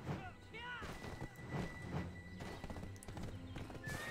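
Horse in the online game Black Desert Online, quick clip-clopping hooves followed by a rising whinny, faint and brief amid other game sounds.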